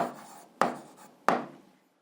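A pen writes on paper during an algebra exercise: quiet scratching strokes with two sharp taps as the pen touches down, fading out at the end.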